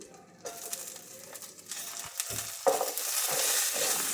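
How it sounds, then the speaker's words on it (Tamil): Two dried red chillies frying lightly in a pan for pudina thogayal, a soft sizzle that swells after a quiet start, with a few clinks and stirring scrapes. "2 காஞ்ச மிளகாய் சேர்த்துக்கிட்டு அப்புறம் லைட்டாக ஃப்ரை பண்ணிக்கோங்க"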